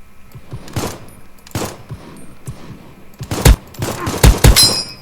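Semi-automatic gunfire in the first-person shooter Krunker: a string of sharp, close single shots in an uneven rhythm, some spaced apart and others clustered quickly, with no talk over them.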